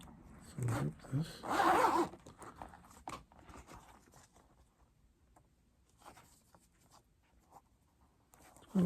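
A zipper on a pair of Stuart Weitzman boots is pulled in a few quick raspy bursts near the start, followed by quieter handling and rustling, close up in a quiet room.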